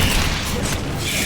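Incendio fire spell cast in Hogwarts Legacy, a short burst of booming flame that swells loud and close and fades within a second, over dense game noise.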